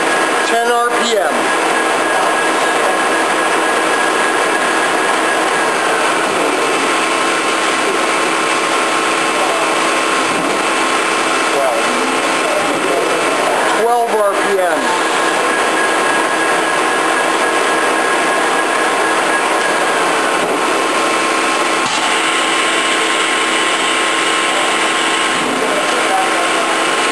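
A Lucas horizontal table-type boring mill runs steadily at 10 RPM with a continuous mechanical whine and hum, a few brief clunks, and people talking over it.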